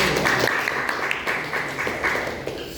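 A classroom audience applauds for Mas Dani, a brief burst of many hands clapping in a dense, steady patter, fairly loud and close.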